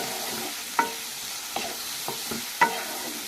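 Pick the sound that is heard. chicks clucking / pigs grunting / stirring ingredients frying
stirring ingredients frying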